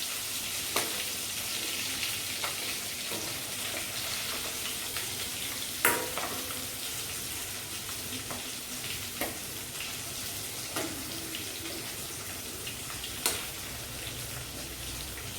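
Stuffed capsicums fry in a pan with a constant close sizzle, broken by occasional light clicks and taps of stirring, and no voices.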